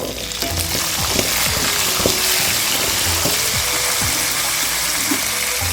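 Onion fries with urad and chana dal in hot oil, a loud, dense sizzle close up, punctuated by quick scraping stirs of a ladle against the pan.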